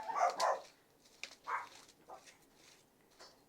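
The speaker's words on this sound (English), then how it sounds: "There's my dog." A dog gives a few faint, short yelps or barks, fairly distant and quiet in a kitchen while chocolate treats are being made, with no talk over them.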